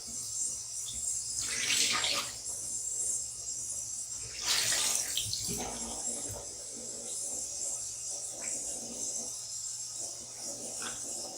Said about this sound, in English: now I'm going to take my washcloth and wet it